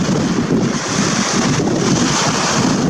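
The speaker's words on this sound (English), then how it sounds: "Fortunately, it's very windy right now, so I don't even know if you can hear me well." Strong beach wind blasts straight into the microphone as a loud, steady roar of rumbling buffeting, with surf washing beneath it and no let-up.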